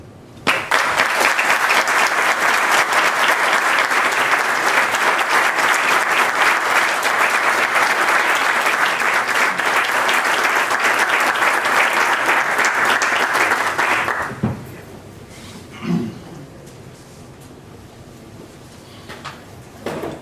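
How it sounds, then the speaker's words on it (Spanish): Sustained applause from a large audience fills most of the clip, then fades out, leaving quiet room noise with a few small knocks. "quiero pedir un sincero aplauso"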